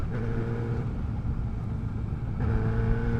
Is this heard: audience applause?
no